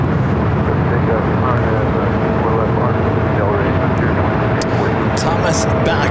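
An airplane takes off from runway 24 left at LAX, a loud, continuous engine roar building and holding for several seconds, with some voice present in the background.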